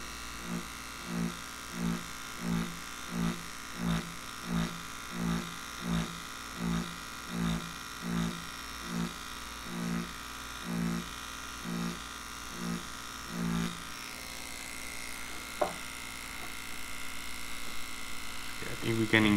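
A Dragonhawk Extreme v2 direct-drive tattoo machine with a 5.0 mm stroke buzzes in about fifteen short even bursts, stopping and starting, then goes quiet under faint background hum.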